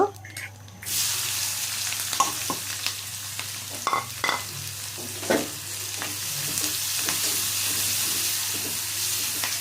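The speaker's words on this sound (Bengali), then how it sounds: "পেঁয়াজ কাঁচামরিচ দিয়ে একটু ভাজা দিয়ে ভালো করে একটু ভাজা দিয়ে নিচ্ছি" Onion and green chili fry in a pan, a close, continuous sizzle that starts after a short quiet moment, broken by repeated scraping stirs and small clatters, with no one speaking.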